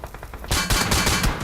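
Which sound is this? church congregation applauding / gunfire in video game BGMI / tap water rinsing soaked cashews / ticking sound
gunfire in video game BGMI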